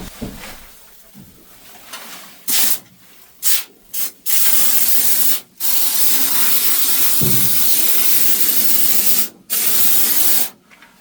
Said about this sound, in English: I went ahead and put the nozzle on the tip. And now I'm ready to start spraying.